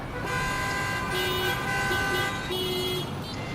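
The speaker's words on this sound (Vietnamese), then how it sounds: "đường kẹt xe bóp còi dù biết rằng bóp cũng không thể nhích lên được chút nào" Car horns honk in congested Ho Chi Minh City traffic, overlapping steady tones sounding over a dense rumble of engines, with one horn cutting out and another starting near the end.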